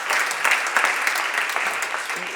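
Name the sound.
round of applause for staff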